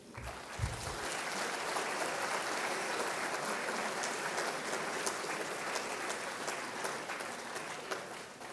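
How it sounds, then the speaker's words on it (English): An audience of students at a marketing conclave breaks into sustained applause, dense and even clapping filling the hall for several seconds after a brief thump at the start, no speech over it. "can I ask you to clap for yourselves?"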